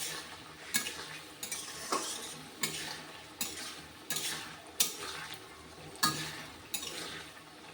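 Pointed gourd and potato curry with garam masala cooking in a pan, a spoon scraping and stirring in regular strokes about every second over a soft background sizzle, fairly quiet and with no speech.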